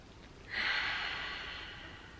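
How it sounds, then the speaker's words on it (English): One slow, deep breath drawn in close to the microphone, a soft airy rush that swells at half a second and then fades gently, with no talk. "let's take a deep breath to take that in."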